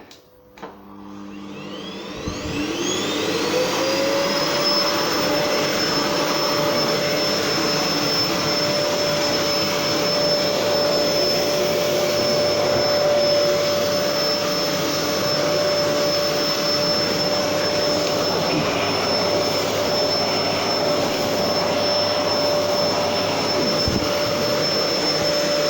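A Gerer8 Power MAX 2000W vacuum cleaner switches on with a rising whine, then runs steadily with a loud, continuous roar and high-pitched motor tone throughout, close by and without talk.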